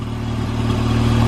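Ford Fiesta ST engine with no catalytic converter, running steadily with a loud, rough, low droning tone that holds level throughout, close to the microphone and alone.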